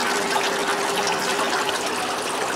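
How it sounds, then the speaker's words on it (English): Water from a 20-gallon tank runs off the honeycomb pad of a large DIY evaporative air cooler, a loud, close, continuous trickling and splashing with a pump-like hum underneath. "There's definitely water coming off of the board here"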